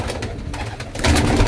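Close, steady cooing of cement-grey pigeons at a flying-pigeon breeder's loft, continuous over the whole stretch and growing louder toward the end, with no talk.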